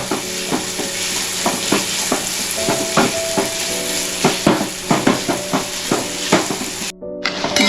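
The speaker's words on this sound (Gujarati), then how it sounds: "દાણાને આપણે થોડા ચમચાથી એને ભાંગી લઈએ" Lilva beans being mashed with a spoon in a pan, a steady run of close, rhythmic scraping and pressing strokes over a soft sizzle, ending in a brief pause.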